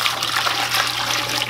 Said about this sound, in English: Now you add the water